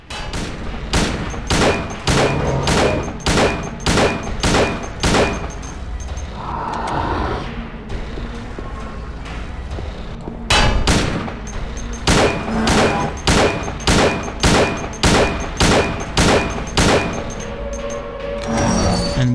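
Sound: video game gunshots

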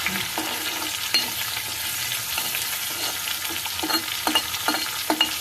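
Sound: asafoetida (hing) frying in oil for coriander pickle

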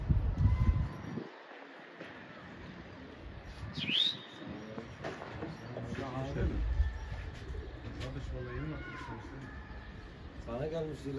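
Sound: pigeons cooing

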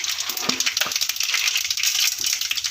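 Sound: mustard seeds and chana dal sizzling in hot oil

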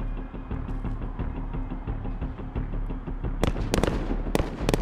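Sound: gunfire shooting out lights in Call of Duty video game

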